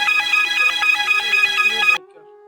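A loud electronic phone ringtone repeats a rhythmic melodic pattern for about two seconds, then cuts off, leaving a faint low hum.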